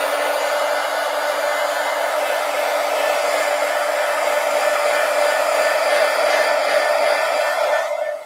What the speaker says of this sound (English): Let me hit this with the heat gun.